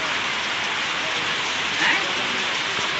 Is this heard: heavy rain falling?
yes